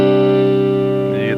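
Electric guitar played through a BearFootage Uber Bee boost pedal set clean, with no distortion: a single loud sustained chord ringing with rich, steady harmonics before a slight shift near the end.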